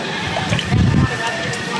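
Water gushes and gurgles from a homemade bent pipe rigged for washing a bicycle, a steady splashing flow that swells briefly in the middle, with voices talking over it.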